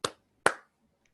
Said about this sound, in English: Finally, a round of applause.